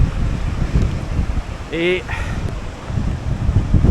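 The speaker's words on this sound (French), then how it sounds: "il vente en tabarnak" Strong wind blows beside a river on a New Zealand road trip, its low, rumbling gusts buffeting the microphone throughout, with a person speaking briefly midway.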